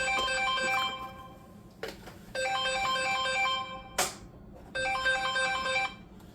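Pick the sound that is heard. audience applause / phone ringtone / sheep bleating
phone ringtone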